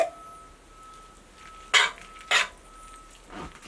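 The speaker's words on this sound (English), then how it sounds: "Now I'll mix in the cream of mushroom soup." Utensil scraping and clinking against a dish as cream of mushroom soup is mixed into meat, two distinct close clanks followed by a softer scrape, otherwise quiet.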